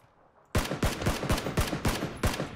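Gunfire in the PUBG video game: a steady series of about eight loud, sharp single shots fired at an even rhythm after a brief quiet start.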